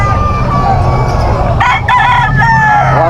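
A rooster crows loudly and close at a busy chicken market, one long call rising over background crowd chatter and other fowl.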